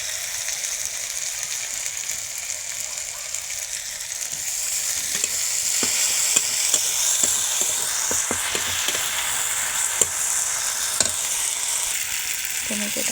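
Chopped tomato hits hot oil in a pan while cooking shol fish papri, a steady hissing sizzle that swells midway, joined by a series of sharp spatula taps and scrapes up close.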